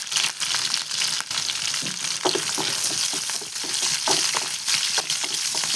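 Slit green chillies and curry leaves fry in hot oil in a pan for a beef dish, a steady loud sizzle with scattered crackles and spoon scrapes throughout, no voices.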